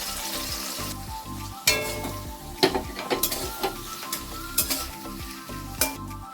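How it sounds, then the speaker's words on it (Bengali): Sliced onion sizzles in hot oil in a pan with whole cloves and a cinnamon stick, a steady close fry broken by sharp scraping clatters as a spoon stirs it. "আমি এবার এর মধ্যে কাটটা রাখা পেঁয়াজটা দিয়ে দিচ্ছি, দিয়ে এটাকে ভালো করে ভাজছি"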